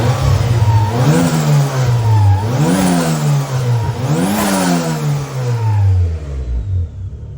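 Turbocharged Honda Civic engine revved repeatedly, three rising and falling swells of engine note over a steady idle, loud and close, settling back to idle before fading.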